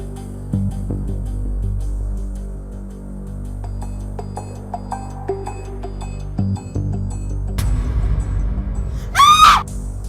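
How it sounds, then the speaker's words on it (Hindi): A sudden, shrill scream rings out from a room inside a home near the end. It rises sharply over a low, steady household hum after quieter indoor shuffling and knocks. "चीख की आवाज आई थी कमरे से।"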